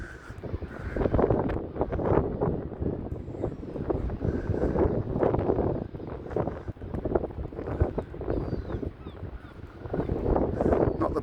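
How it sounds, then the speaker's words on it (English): Wind gusts along a seafront promenade at Blackpool's North Prom, a steady broadband rush and buffeting at the microphone that continues throughout, with faint background activity mixed in. "It's been windy for a few days now."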